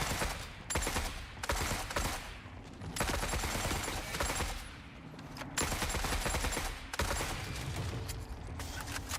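Heavy gunfire from the video game The Forever Winter fills the clip: dense bursts of automatic fire and volleys, loud and continuous, with short lulls between the barrages.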